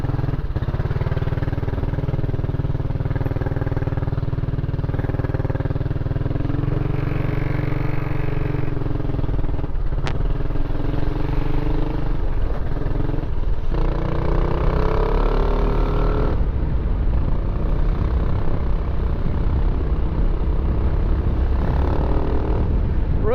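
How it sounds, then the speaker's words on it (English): A Kymco Xciting 500 scooter engine running steadily and loudly nearby, with a continuous droning hum that shifts in pitch a few times and one brief sharp click partway through; nobody speaks. "Really loud scooter."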